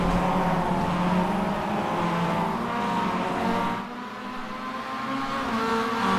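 Race cars roar along the track at a summer series round, a loud, steady engine drone that dips briefly midway as the field surges past, with faint tire noise.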